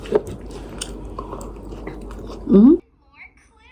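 Karaage fried chicken being chewed at a family New Year meal in Japan, with moist, close mouth noises running under voices and background chatter, then a louder bite-and-chew burst near the end before the sound drops away.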